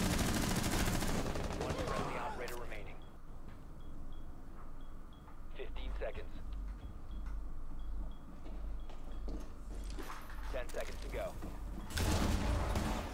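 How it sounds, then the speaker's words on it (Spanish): Rapid bursts of gunfire from a shooter video game crackle repeatedly through the scene, mixed with game noise and spoken chatter over a steady, dense background. "Sí, sí, dispara, dispara"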